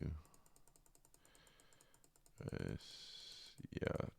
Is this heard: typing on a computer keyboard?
yes